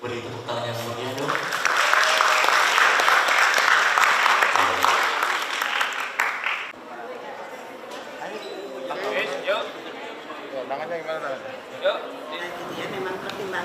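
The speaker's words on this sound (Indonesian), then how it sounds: "Beri tepuk tangan yang meriah dong." An audience claps loudly for several seconds at the opening ceremony of a psychology master's program at Universitas Brawijaya, then the applause fades into scattered claps under continuing speech.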